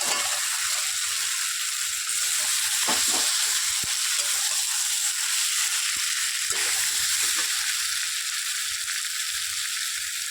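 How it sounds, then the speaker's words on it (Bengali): Potatoes and fish frying in a spice paste, with a steady broadband sizzle running throughout, close and fairly loud, plus a few faint clinks and stirring scrapes and no voices. "মশলাটা কষানো হয়ে গেছে, এবার আলু আর মাছটা দিয়ে দেবো।"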